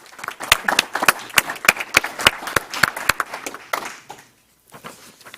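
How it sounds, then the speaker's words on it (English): An audience applauds at a school board meeting: several seconds of sharp, rhythmic claps from a modest crowd in a meeting room, thinning out and stopping near the end. "Let's give Isabel another round of applause"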